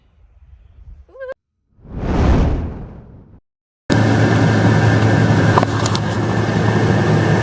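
A kitchen fan runs while supper cooks, a steady broadband roar that starts abruptly partway through and continues loud to the end, after earlier brief whooshing sounds and a short tonal chirp.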